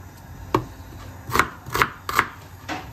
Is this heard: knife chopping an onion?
yes